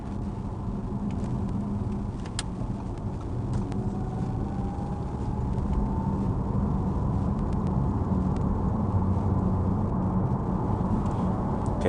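Audi e-tron GT cabin cruising at 100 km/h, a steady broadband road and wind roar with low tyre rumble, constant and even throughout with no voices.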